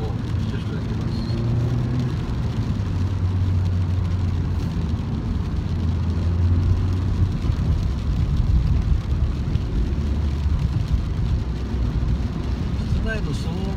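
Steady low rumble of road and engine noise inside a moving Suzuki Swift Sport with a six-speed manual, constant and moderately loud throughout with no talking.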